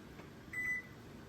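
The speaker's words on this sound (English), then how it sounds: "All right, the timer has gone off." Kitchen timer going off in a home kitchen: a single short, faint electronic beep over quiet room tone, with no talk.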